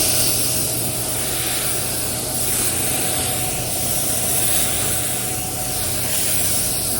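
A spray gun with no pressure regulator lays black base coat onto the doors of a 1984 C10 truck, producing a continuous close, loud hiss with gentle swells in intensity and no talking.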